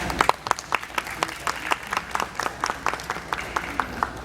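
Audience applauding a woman at a women-in-politics event, a loose crowd of separate, sharp hand claps at moderate volume, each clap distinct and spread over a few seconds.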